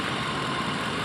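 A 1993 Lincoln Town Car engine running steadily after a cooling system flush, a continuous low idling hum with even vibration, close and unbroken, with no voices.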